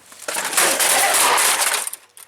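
A computer smashed in a crash test: a loud, sustained crunching and clattering of breaking plastic and metal parts lasting about two seconds, trailing off into a few scattered rattles.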